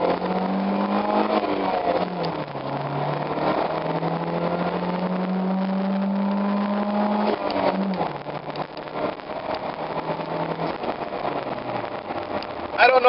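Car engine pulling away in first gear on a stock exhaust, a steady rising drone with pitch climbing and dropping at shifts, loud and continuous throughout.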